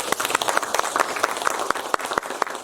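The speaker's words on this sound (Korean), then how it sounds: "교수님께 다시 한번 큰 박수" A lecture audience at a research institute's invited talk gives the professor a round of applause, dense, close clapping with sharp individual claps standing out throughout.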